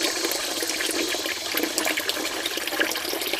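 Steady tap water runs and splashes continuously while a Barbie doll's hair is washed with foam, close and even, with no talk.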